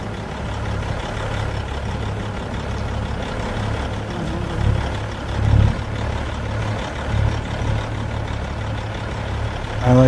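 A farm truck's diesel engine idles steadily with a deep low rumble, swelling briefly a few times, close by and with no talking.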